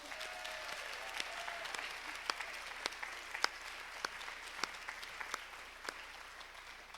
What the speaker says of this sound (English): So give her a huge round of applause.